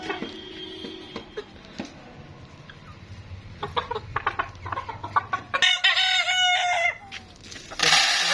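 Chickens cluck and a rooster crows on a small backyard poultry setup, with busy overlapping hen calls near and far building into louder bursts toward the end.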